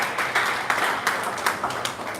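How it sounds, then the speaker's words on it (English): An audience at a network marketing meeting claps for a woman, with bursts of many hands and some louder individual claps standing out over a continuous clapping wash. "Then clap for also this lady here."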